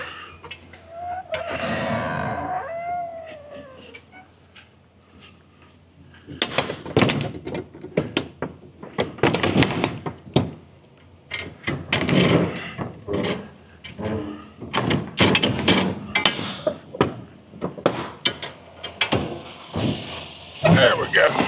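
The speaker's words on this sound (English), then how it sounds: "so let's close the door." Truck trailer double door being swung shut and latched, a series of loud metallic clanks and thumps following a stretch of quieter movement, close by.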